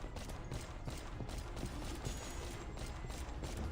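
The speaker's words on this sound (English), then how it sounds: "She empties her magazine." Gun emptying its magazine in the Reverse 1999 game, a rapid continuous burst of mechanical shots at an even rhythm, steady and fairly loud with no talk.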